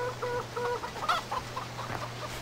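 Chickens in the video game Farming Simulator 15 cluck in short repeated calls over a steady low hum, fairly close and moderately loud, with no talking.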